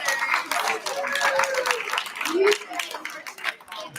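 Audience applause for choir dancers at a culture festival, scattered clapping from a modest crowd with distinct individual claps, mixed with voices and a few whoops and chatter throughout.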